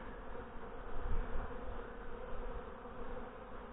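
Honey bees buzz inside an open hive that is preparing to swarm, a dense, steady, low hum that stays faint and continuous throughout.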